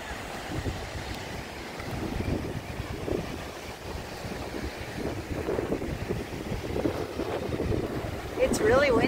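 Strong gusts buffet the microphone over the low rumble of Atlantic surf, with faint talking and a brief whistle-like tone near the end.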